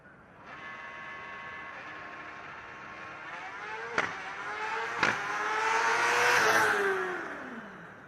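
A Formula Student race car tears through an acceleration run, its high engine note climbing through quick gear shifts and swelling louder as it approaches, then fading and dropping in pitch as it passes.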